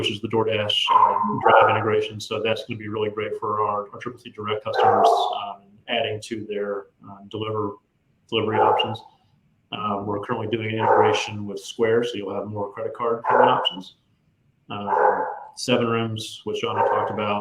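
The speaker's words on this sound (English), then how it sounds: "And I apologize for my dog in the background here." A dog barks in the background of a home setting, partly buried under someone speaking continuously through a business presentation.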